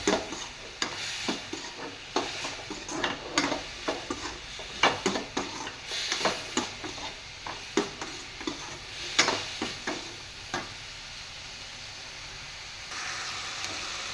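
Pulao ingredients and spices being stirred and sautéed in a pan, with repeated close clicks and scrapes of a spoon against the metal over a soft sizzle, irregular in rhythm and easing off toward the end.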